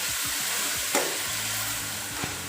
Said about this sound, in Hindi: साथ ही हम इसके अंदर प्याज ऐड कर देंगे।